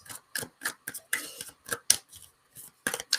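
Tarot cards being shuffled during a live reading, heard as a quick series of sharp, close riffling snaps and flutters in an irregular rhythm, with brief silent gaps between them.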